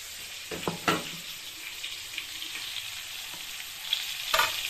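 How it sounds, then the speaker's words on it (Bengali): Spice masala frying lightly in a pan for a fish, potato and papaya curry, with a soft continuous sizzle and a few quiet spoon scrapes, faint and close. "দু মিনিটের মতো একটু হালকা করে একটু ভেজে নেব"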